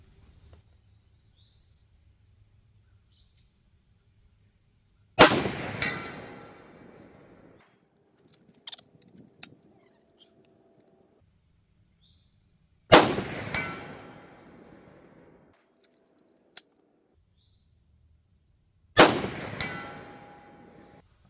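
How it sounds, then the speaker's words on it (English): Three loud rifle shots fired from a shooting tripod at a 150-yard target, each a sharp crack with a decaying tail, spaced several seconds apart with faint clicks and handling noises between them. "So as you can see there, 150-yard shots, no problem."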